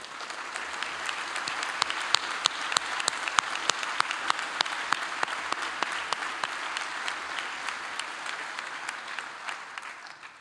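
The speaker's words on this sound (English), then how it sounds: "We got to give you one more round of applause." An audience at a university honors ceremony gives sustained applause for about ten seconds, with steady, dense clapping that holds a fairly even level and fades near the end.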